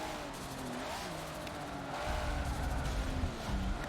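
A Nissan Skyline GT-R R33 racing in Forza 7, engine droning steadily with shifting pitch and rising revs, growing louder toward the end.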